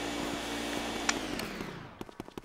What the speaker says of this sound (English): you're sucking out of it with the vacuum